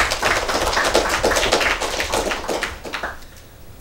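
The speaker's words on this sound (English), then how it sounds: "Give a round of applause then." A crowd claps in a dense burst of applause before a presentation, fading toward the end.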